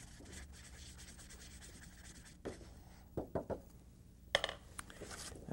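Soft scrubbing and dabbing of a paintbrush mixing white paint with water on paper, quiet rubbing strokes with a few sharper taps, close and alone.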